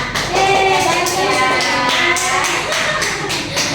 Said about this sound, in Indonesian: Tepuk tangan dulu untuk Rana